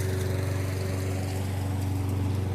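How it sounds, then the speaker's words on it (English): A lawn mower runs steadily through a front-yard mow beside a high-traffic road, its engine drone loud, close and constant with no pauses. "And then I went through and mowed the front."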